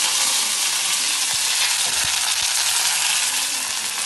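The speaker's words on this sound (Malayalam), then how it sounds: "അതിലേക്ക് കുറച്ച് കറിവേപ്പിട്ട്," Curry leaves sizzle with mustard seeds in hot oil, giving a bright, constant crackling hiss close by. A few soft pops and clicks from the pan come through the frying.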